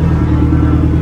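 A Suzuki Hayabusa 1300 cc motorcycle engine fired up among bikes lined up, a loud, steady low rumble that fills the moment without talking.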